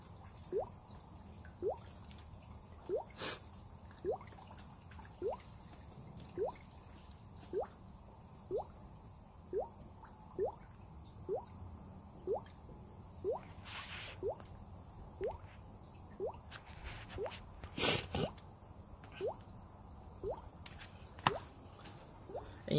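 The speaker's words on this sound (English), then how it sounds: "And you can see the water filling up." Water drips at a slow, even pace into a DIY bell siphon pond filter as it fills, each drop a soft, close plop over a faint trickling background, with a few louder splashes and no talking.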